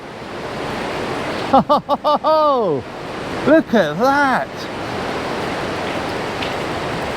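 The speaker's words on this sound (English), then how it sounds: "there's another waterfall" A waterfall pours through limestone at Gordale Scar, a steady broad rushing roar throughout, with a voice speaking briefly over it.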